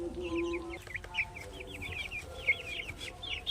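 Chickens cluck repeatedly nearby in short, choppy bursts, with a few louder squawks and scattered background noise.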